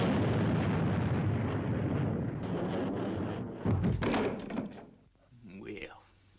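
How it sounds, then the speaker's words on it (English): A science-fiction spaceship's main boosters fire with a loud, sustained rumbling roar that swells, then gives way to heavy thuds and a fading low rumble. "Firing main boosters."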